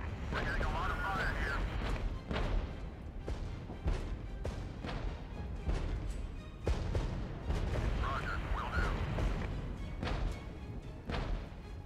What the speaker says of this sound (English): Just a constant artillery barrage.